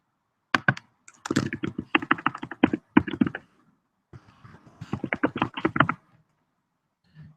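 Typing a search on a computer keyboard comes through as quick bursts of close, crisp key clicks in two runs separated by a short pause.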